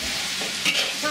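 Quick stir-frying in a wok, a steady sizzling hiss with a scraping swell near the middle, heard alone and fairly close.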